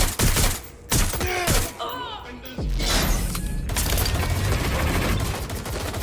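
Gunfire from the video game Watch Dogs Legion, rapid bursts of shots and explosive booms followed by a sustained, loud roar of firing with no voices over it.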